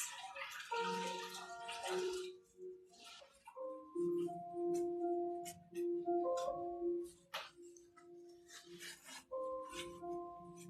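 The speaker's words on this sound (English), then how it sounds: "So I just give it a rinse." A lightweight 100% silk scarf rinsed in water after marbling, splashing and sloshing close by in uneven bursts, with glassy clinks and drips in between and no voices.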